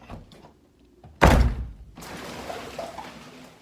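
An underground greenhouse door shuts with one heavy thud, followed by a steady hiss of water dripping and pattering close by after a torrential downpour.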